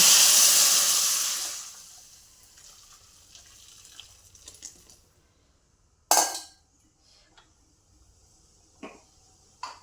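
Water poured into a hot tempering in a pan bursts into a loud hissing sizzle that fades over a couple of seconds, followed by quieter bubbling and a few sharp utensil knocks.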